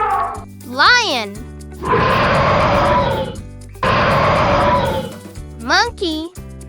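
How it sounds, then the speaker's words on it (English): A lion gives two long, rough roars, loud and close, framed by bright children's music with short squeaky animal calls before and after. "Lion."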